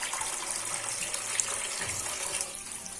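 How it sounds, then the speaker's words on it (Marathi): Tap water runs steadily into a kitchen sink after lunch, a continuous close hiss and splash with no talk, heading into washing a pile of dishes. "पाणी पण आले."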